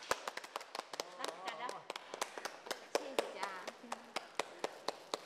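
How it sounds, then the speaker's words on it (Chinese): A small group claps in sharp, uneven bursts to welcome someone at a staff party, the claps loud and close while cheerful voices call out over them. "掌声欢迎！"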